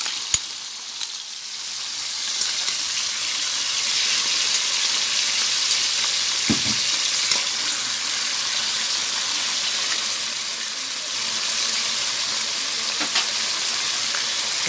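Cabbage stir-fried with pork and shrimp in a wok, with oyster sauce and light soy sauce added, makes a steady broad sizzle that runs throughout. A few brief clanks from stirring rise above it, and no one speaks.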